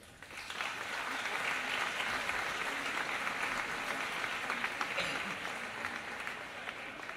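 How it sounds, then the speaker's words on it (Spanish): Audience applause at a live outdoor folk concert blending jota, flamenco and rock in Plaza San Felipe, Zaragoza, greeting the composer Joaquín Pardinilla; dense, steady clapping from a large crowd, loud and sustained throughout. "Un aplauso para él."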